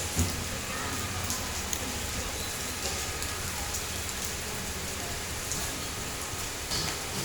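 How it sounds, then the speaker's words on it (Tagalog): Steady, heavy rain pours down, a constant dense hiss of drops hitting surfaces with no pause. "nabutan po tayo ng ulan dito sa bayan"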